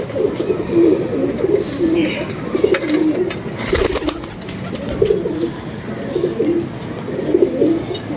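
Pigeons coo repeatedly in soft, rolling bursts close by, a steady rhythmic murmur throughout with brief rustles and voices talking faintly in the background.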